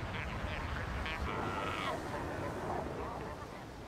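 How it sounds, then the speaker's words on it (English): Seabirds at a breeding colony on a rocky Cape island by the sea call in scattered squawks and quacking cries over a constant wash of surf and wind. "It's the seabirds' breeding season too."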